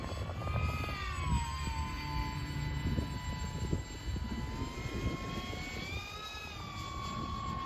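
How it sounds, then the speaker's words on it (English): A modded FT Spear drone flies overhead in light wind, its propellers giving a steady whining buzz that rises and falls in pitch as it manoeuvres, heard alone at moderate distance. "Sounds like a drone in the air."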